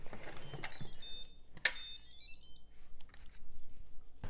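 A short electronic beep chime from an Instant Pot pressure cooker rings out once, bright and clear, amid quiet kitchen handling noises.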